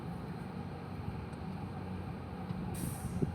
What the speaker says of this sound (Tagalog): Parang truck eh, no?